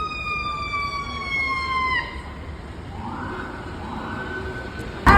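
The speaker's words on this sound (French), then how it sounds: "Encore un camion de pompiers, il y en a déjà 5 qui sont passés et genre 2 ambulances" A fire truck siren wails past on a US street, loud at first with a falling pitch as it goes by, then a lower siren tone continues under traffic noise.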